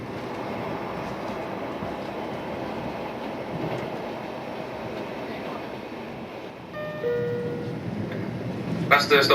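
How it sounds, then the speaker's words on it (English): A passenger train rumbles steadily through the snowy Norwegian mountains on its approach to Myrdal, a continuous low rolling roar with a short tonal chime near the end and a brief louder clatter at the very close. "The train is now approaching Myrdal in the mountains."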